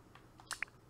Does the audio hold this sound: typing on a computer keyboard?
yes